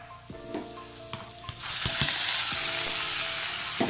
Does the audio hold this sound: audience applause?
no